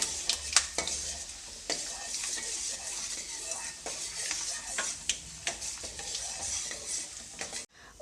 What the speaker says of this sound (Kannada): ಉದ್ದಿನಬೇಳೆನ ಹಾಕ್ಕೊಂಡ್ಮೇಲೆ ಒಂದು ಸ್ವಲ್ಪ ಫ್ರೈ ಮಾಡ್ಕೊಳ್ತೀನಿ